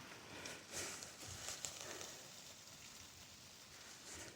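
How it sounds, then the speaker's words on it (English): Steady light rain falling outdoors on a December morning, a faint continuous patter and hiss with a few slightly louder drops, no voices. "and it's raining."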